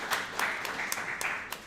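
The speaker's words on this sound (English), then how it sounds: "Give her a round of applause here for Nicole." A small audience gives a brief round of applause for Nicole at an evening training spotlight event. The clapping is scattered and fairly quiet, with a few sharper claps standing out.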